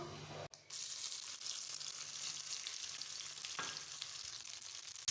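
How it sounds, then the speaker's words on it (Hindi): Chopped tomatoes hit a pan of fried cumin with a sharp burst, then a steady close sizzle of frying runs on, broken by a brief stirring scrape. "तो ज़ीरा हमारा फ्राई हो गया। अब हम ऐड करेंगे टमाटर।"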